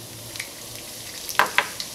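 Urad dal frying in hot oil, a soft steady sizzle broken by a few sharp crackles and stirring scrapes, close and fairly quiet, no voices.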